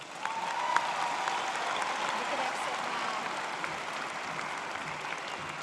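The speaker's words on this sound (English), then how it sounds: "Please give these outstanding TMC students a round of applause." Sustained applause from a large commencement audience honoring outstanding students at a 2019 TMCC graduation ceremony, a steady dense wash of clapping across the whole stretch with a faint murmur of voices beneath.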